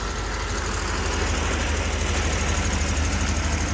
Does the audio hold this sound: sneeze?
no